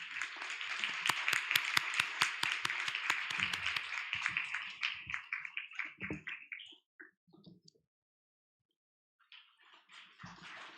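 Brisk applause welcoming a speaker at a climate forum session, many hands clapping loudly at first, then thinning into scattered claps that fade to silence before faint sounds return.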